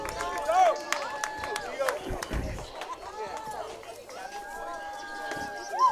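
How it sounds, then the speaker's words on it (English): A crowd in the stands at a high school baseball game between the Southwest Legacy Titans and Southwest Dragons murmurs and cheers in a steady, mid-distance wash, with scattered voices, whistles and shouts rising over it throughout. "I hear the crowd."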